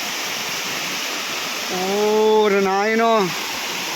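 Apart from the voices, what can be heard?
Benarai waterfall water falling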